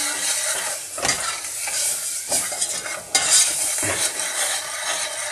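Kashmiri masala paste loosened with white vinegar sizzles steadily in a pan, with periodic scraping stirs and clinks of a utensil against the cookware.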